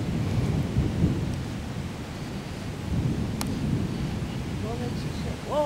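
Rain falls steadily through a Midwest thunderstorm while low thunder rumbles continuously, with a brief sharp crack near the middle and a faint voice toward the end.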